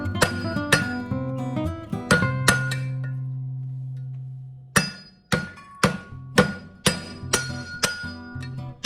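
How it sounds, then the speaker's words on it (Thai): Heavy thuds of ingredients being pounded, about a dozen sharp ringing blows in an uneven rhythm, with a resonant hum lingering during a pause. "จากนั้นนะคะเราก็จะทุบค่ะ แบบนี้ค่ะ"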